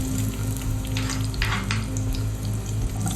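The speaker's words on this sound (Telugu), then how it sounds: "ఆయిల్లో అది చిన్న ఎల్లిపాయ అండ్ దెన్ ఉల్లిపాయ వేసింది." Garlic and then onion sizzle in hot oil, a steady crackling fry with a few louder spitting bursts, close and continuous, with no voices.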